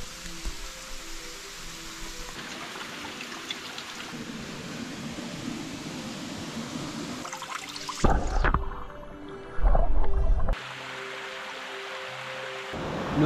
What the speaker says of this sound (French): On va à la cascade de Pointil.